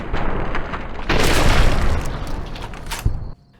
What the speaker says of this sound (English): And as soon as I heard the shot